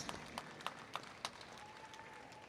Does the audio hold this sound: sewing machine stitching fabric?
no